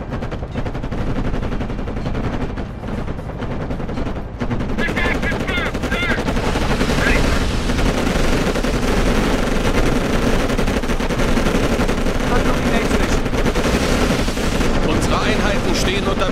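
Dense, continuous bursts of rapid gunfire with booming impacts in the video game Codename Panzers: Cold War, loud and relentless, mixed with a game soundtrack and occasional German voices.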